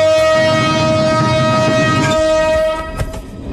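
A train departs in a film scene, its horn blaring in one long, steady, loud tone over the rumble of rolling rail cars. The horn cuts off near the end, leaving quieter clatter.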